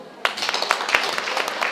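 Audience clapping bursts in at a women's gathering, a quick, close patter of hands with a few sharper individual claps standing out, continuing steadily to the end.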